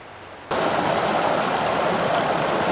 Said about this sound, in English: Just crossed Blue Canyon Creek.